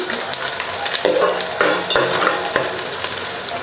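Curry leaves dropped into hot oil sizzle and crackle steadily, with a few sharper spits and stirring scrapes in the pan, close and clear.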